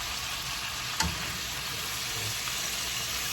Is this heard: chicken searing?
yes